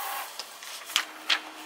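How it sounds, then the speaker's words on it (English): An inkjet printer running a print head cleaning whirs quietly in the background with a few short mechanical clicks and shuttling bursts, no talking. "Sorry if you can hear my printer in the background."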